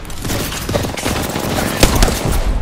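Dense, continuous gunfire in the Apex Legends battle royale game, a loud fusillade of rapid overlapping shots running the whole time with a sharper crack near the middle.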